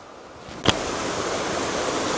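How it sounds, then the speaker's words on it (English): Creek water in North Chickamauga Creek Gorge rushes in a steady broadband roar among large boulders, close and continuous, broken by one brief sharp knock near the start. "The creek is really close, and you can hear the water from up there by the sign."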